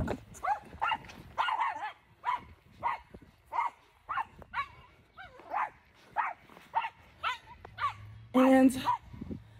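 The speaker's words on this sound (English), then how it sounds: "And there's tons of dogs here." Several dogs bark, yip and whimper in a crowded vet clinic waiting area, sharp repeated barks close by in an uneven rhythm, with people talking in the background.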